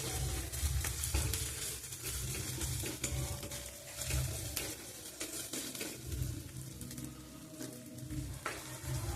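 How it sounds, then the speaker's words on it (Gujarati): Ginger, chili and green garlic paste stirred and sizzling in a pan while urad dal cooks, a steady close frying hiss with scraping spoon and pan clatter throughout, no voices. "બધું સરસ મજાનું મિક્સ કરી દઈએ અને એને 2 મિનિટ માટે ચડવા દઈએ"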